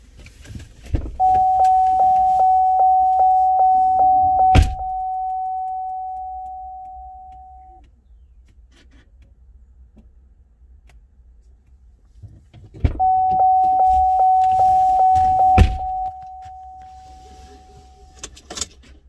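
A first-generation 2006 Chevrolet Trailblazer cranking: two separate bursts of starter cranking, each lasting a few seconds, with a steady electronic warning tone over each one, heard up close.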